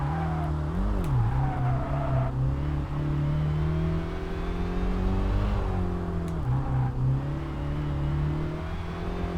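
An underpowered front-wheel drive car with under 200 horsepower labors up a hill climb in Kaido Racer 2, its engine droning steadily with slow rising and dipping revs, loud and continuous with no talk.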